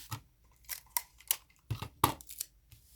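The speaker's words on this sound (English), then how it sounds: "Cut the thread. My smaller scissors are sharper than my bigger ones." Small, sharp scissors snip through sewing thread in a series of crisp, close cuts, about eight quick clips spaced irregularly with short quiet gaps between them.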